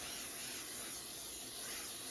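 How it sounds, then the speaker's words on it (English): Setting spray misted onto the face during a makeup routine, one soft continuous hiss lasting about two seconds, close but faint, with no talking. "Spray my face again with the setting spray."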